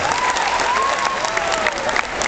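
A crowd claps steadily in dense, sustained applause at a clown show, with a faint voice-like tone threading through the noise.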